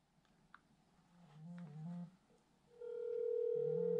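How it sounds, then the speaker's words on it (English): Phone test call placed on a handset running Visible Wireless LTE service, producing steady electronic call tones: a short beeping pattern, then a loud sustained ringback tone growing louder toward the end, with no talk. "Same thing, make a test call."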